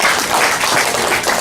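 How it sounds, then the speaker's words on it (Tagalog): An audience at a business opportunity presentation breaks into continuous applause, a loud, even crackle of many hands clapping with no voices over it. "Palakpak naman kayo"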